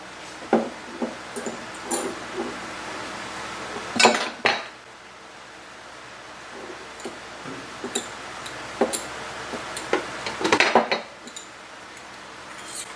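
Green peppercorns dropped into a pan of reducing steak au poivre sauce, with scattered light clinks and taps of metal and utensils, sharp close ticks spaced irregularly over a quiet background.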